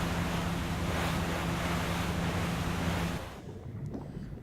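A boat moving across lake water in Resident Evil 4, with a steady loud rush of water and engine-like wash and a low hum that drops away abruptly, leaving quieter lapping and wind.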